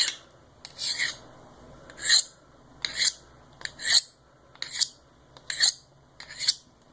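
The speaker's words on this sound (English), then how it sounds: "One of the beauties of having a round sharpening device like this is you don't actually have to lift the handle to follow the belly of the knife" A Kershaw Link knife with a 420HC steel blade drawn along a round sharpening rod, seven crisp rasping strokes in a steady rhythm, close and clear with quiet gaps between.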